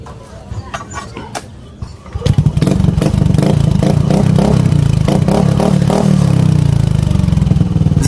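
A Yamaha Aerox v2 scooter fitted with a 51mm-inlet oval full-system muffler, silencer removed, starts up after quiet clatter and settles into a loud, throbbing, rapid exhaust burble that holds steady close by.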